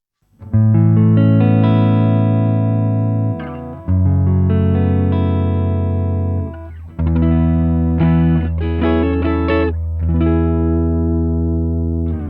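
Clean electric guitar chords through a Beetronics delay pedal into a Peavey Classic 20 amp set clean with no reverb, ring out in several sustained phrases with echoing repeats trailing each strum, loud and close with no voices.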